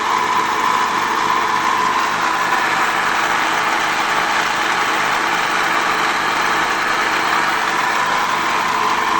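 Diesel engine of a Mitsubishi L300 van idling after being started, a dense, even running drone heard up close with no change in pace and no talking.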